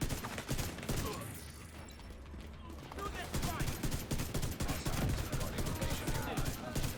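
Dense, continuous rifle fire in the video game Division 2, fast rapid shots from a hip-fired rifle filling the clip loudly with game effects and a voice speaking underneath.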